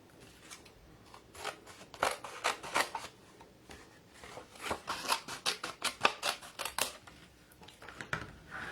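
Scissors snipping through card while making a sneaker-themed greeting card, a series of crisp, close cuts in quick uneven clusters, some pauses between strokes.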